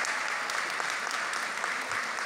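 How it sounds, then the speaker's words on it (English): A crowd at a local election candidates' forum for Wards 7 and 8 in London applauds, with dense, even clapping that is sustained throughout and heard without talk. "Let's give a big round of applause to all of the candidates here."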